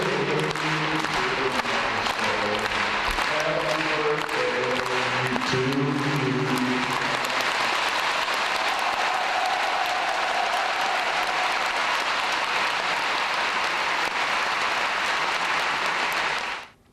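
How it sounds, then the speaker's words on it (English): Large crowd in North Korea keeps up loud, relentless applause, with singing of a birthday song audible underneath for the first several seconds before the clapping carries on alone and cuts off abruptly. "That's how you clap."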